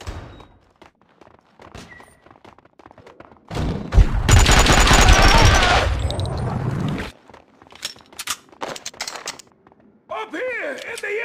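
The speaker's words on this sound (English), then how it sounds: "Someone must have heard the gunfire." Gunfire in the video game Max Payne 2 erupts as a loud, dense burst of rapid shots lasting several seconds, framed by quieter scattered impacts and effects before and after.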